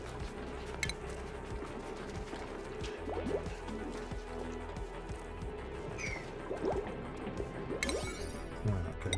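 Water drips in the Oxygen Not Included video game: scattered soft plops and trickles over a steady low background hum, faint and spread across several seconds without talk.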